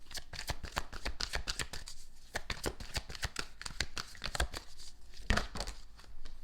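A deck of tarot cards being shuffled up close, a steady run of crisp riffling and slapping card sounds with brief pauses, loud and alone with no talking.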